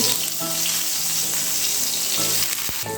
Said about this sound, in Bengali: তখন একটা একটা করে এই কাটা বেগুনের পিসগুলো দিয়ে